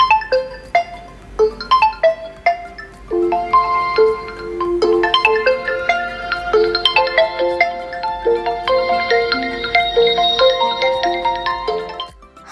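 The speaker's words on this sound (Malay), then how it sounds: "Dengar ringtone pun dah sedap kan?" A bright melodic ringtone plays alone from an Oppo Find X3 Pro's Dolby stereo speakers, its plinking notes building into a fuller layered tune that runs steadily before cutting off.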